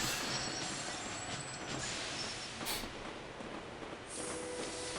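A train in the Sid Meier's Railroads video game rolls along with a steady, unbroken mechanical rumble. A brief hiss resembling an air brake comes through faintly, and no one talks.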